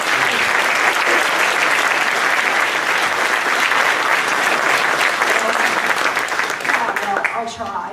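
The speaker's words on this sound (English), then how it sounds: "Let's give her and everyone else who's helped put this day together a huge round of applause" Audience at a Darwin Day event in Sacramento breaking into a huge, sustained round of applause, dense clapping holding steady for several seconds before tapering at the end.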